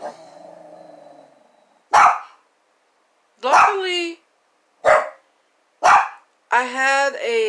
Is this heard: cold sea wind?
no